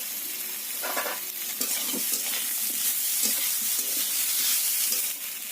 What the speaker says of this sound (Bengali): বেগুন আর আলু খুব ভালো করে ভেজে নিতে হবে এতে দিয়ে দিতে হবে টমেটো কুচি